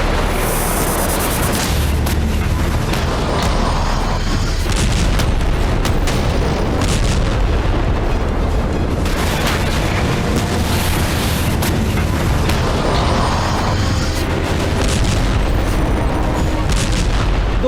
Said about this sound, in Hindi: 400 घंटे से धरती का एक इलाका बम, गोला और बारूद से थर्रा रहा है।